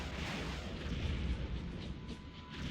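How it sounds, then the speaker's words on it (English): Missile launch in the strategy video game Supreme Ruler Ultimate, a dense, steady rumbling roar with a blast-like broadband burst that holds at a fairly loud level for nearly three seconds, with no talk over it. "Missile away!"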